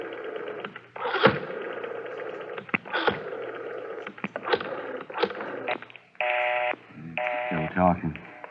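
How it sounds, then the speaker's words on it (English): A telephone is dialed in an old radio drama, with a row of short rotary clicks and tones mixed in among the actors' voices. "Dial 9 to get outside, Garvey."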